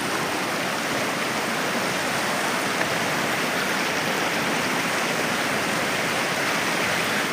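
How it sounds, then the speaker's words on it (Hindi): Fast, cold river in Kumrat Valley, swollen and rushing over a stony bed after flooding, giving a loud, steady broadband roar that stays constant with no voices over it. "पानी का बहाव तो बहुत तेज़ है"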